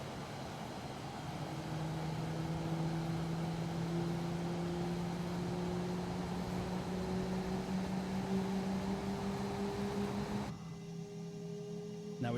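Jet engine of an F-117A Nighthawk in the MSFS2020 flight simulator, a steady droning whine with tones that slowly rise as the throttle comes up, running continuously before an abrupt change near the end.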